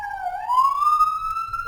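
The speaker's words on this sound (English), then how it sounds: "waiting for the ambulance to drive by." An ambulance siren passes close by, its tone sliding low and then climbing in a long wail, loud and clear over quiet surroundings with no speech.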